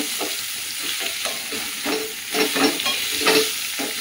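Hog plum chutney ingredients fry in a pan with a steady, close sizzle, overlaid by repeated stirring scrapes that swell slightly toward the end, no voices.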